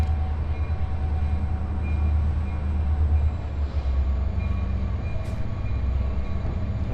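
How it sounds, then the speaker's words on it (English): A freight train passing through Miami, Florida makes a loud, steady rail rumble with a deep low hum that lasts throughout, and a brief high squeal near the end. "it looks like we're going to see a train rip through here in a minute."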